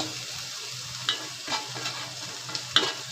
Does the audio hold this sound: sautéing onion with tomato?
yes